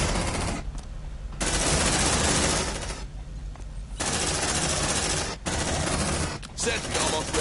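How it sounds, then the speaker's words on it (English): A sentry gun firing in the sci-fi game Aliens: Dark Descent, with long sustained bursts of rapid automatic gunfire broken by short pauses, loud and close, with faint voices. "Deploying sentry gun."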